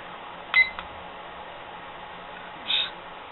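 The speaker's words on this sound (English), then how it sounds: "Start my timer here." A kitchen timer being started beside an alcohol camping stove gives two short electronic beeps about two seconds apart over a faint steady hiss.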